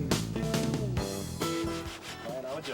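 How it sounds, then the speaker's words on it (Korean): Sandpaper rubs over old, worn dancheong paintwork on wooden temple timbers in repeated scraping strokes, heard close over a steady tonal background. "사포로 단청할 곳을 청소하는 면닦기"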